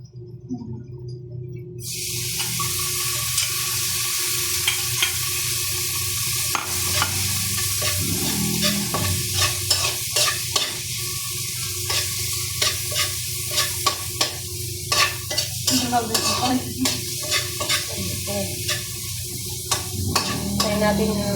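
Tomatoes sizzling and frying in a pan while monggo (mung bean stew) is cooked, a steady hiss with repeated stirring scrapes and crackles throughout, close and fairly loud, with no talking.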